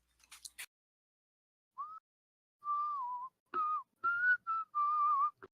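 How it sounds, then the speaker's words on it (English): A person whistles a slow pop melody in short sustained notes with pauses between them, close and clear, after a few faint clicks at the start. "I have no idea what you're whistling there"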